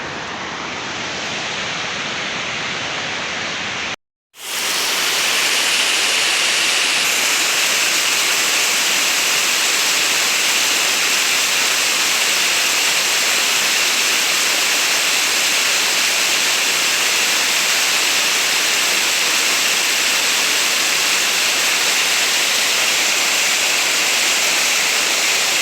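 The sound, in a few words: waterfall rushing in the Altai mountains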